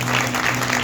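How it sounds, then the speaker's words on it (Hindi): A congregation at a Sunday church sermon breaks into a short burst of applause, a dense, steady clatter of many hands that lasts under a second. "ताली बजाओ, वेरी नाइस"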